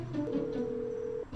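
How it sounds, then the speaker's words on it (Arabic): One steady telephone ringing tone over the line while a call goes unanswered, holding for about a second against faint background hiss. "جرس ومش بيرد"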